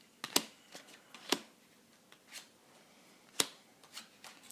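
Trading cards from a freshly opened booster pack being handled, a handful of quiet, sharp flicks and slaps spaced irregularly over a hushed background, with no voices.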